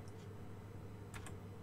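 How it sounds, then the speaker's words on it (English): A few light keystrokes on a computer keyboard, two soft clusters of taps over a steady low hum. "you're going to type"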